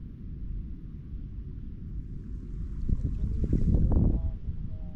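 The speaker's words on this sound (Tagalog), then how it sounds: "Ang lakas ng hangin eh." Strong wind buffeting the microphone on a small fishing boat on a tilapia pond, a constant low rumble that swells louder toward the end with water sloshing.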